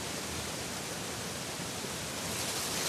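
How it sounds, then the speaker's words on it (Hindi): A waterfall pours beneath a bridge in hilly country at night, a constant, even broadband rush of falling water heard alone, steady and moderately distant with no breaks. "यहाँ तो इस साइड में झरना निकलते हैं ना, हाँ जी, इसके नीचे ही है।"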